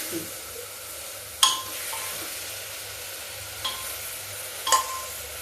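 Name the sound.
white eggplant and spices frying in a pan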